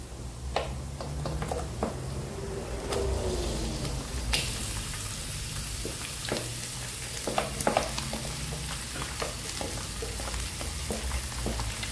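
Onion frying in a pan for sotanghon gisado, giving a steady close sizzle under repeated stirring and scraping clicks that runs the whole time.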